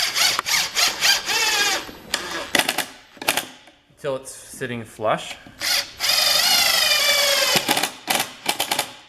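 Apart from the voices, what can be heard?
countersink drill driving into wood for Adirondack chair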